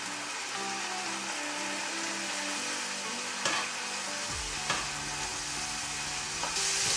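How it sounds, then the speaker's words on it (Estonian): Minced meat frying in a pan, a steady close sizzle with a faint hum underneath and a few light scrapes or taps of stirring, with no one talking. "Siis ma praen hakkliha"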